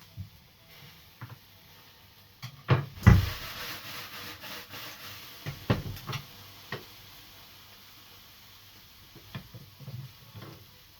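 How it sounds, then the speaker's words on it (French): Butter and Cenovis yeast spread being worked together into a paste, with intermittent soft scraping and knocking of a utensil against a bowl, a few sharper taps standing out from a quiet background. "The idea is to mix butter and Marmite together until you get like a paste"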